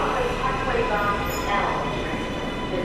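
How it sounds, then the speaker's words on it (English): A New York subway L train bound for Canarsie rumbles and clatters steadily in a loud, close interior roar of wheels and track, with faint squeals and indistinct voices underneath. "you need to get on the L train towards Canarsie Rockaway Parkway"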